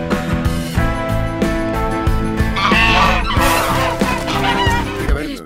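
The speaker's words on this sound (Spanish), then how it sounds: "Eso no son patos, son ocas." Geese honk loudly and continuously over a dense music bed, several birds calling at once in a rural farmyard setting.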